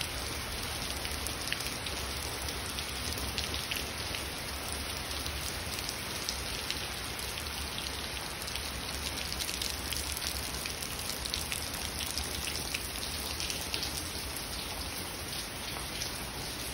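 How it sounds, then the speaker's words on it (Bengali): Rain falling outdoors in a garden, a steady dense hiss of drops on surfaces, close and even throughout with no talk. "আমি বৃষ্টি ভিজে যাচ্ছি"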